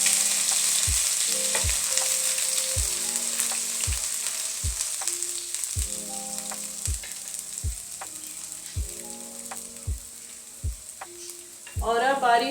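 Ground ginger frying with cloves and black pepper in oil for mash daal, a steady loud sizzle broken by regular spoon taps against the pan, with a burst of bubbling near the end.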